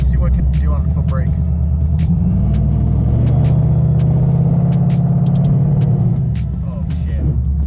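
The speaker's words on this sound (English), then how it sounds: "So 6R80 blower car, just see what it can do on the foot brake" Supercharged Ford Coyote V8 car with a 6R80 automatic, held on the foot brake while the engine is revved, producing a loud, sustained low-pitched roar that swells and holds steady before easing slightly near the end.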